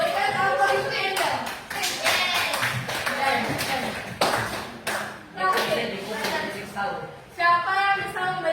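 A classroom of students applauds a classmate with brisk, dense clapping nearby. The clapping swells and eases in waves and thins toward the end.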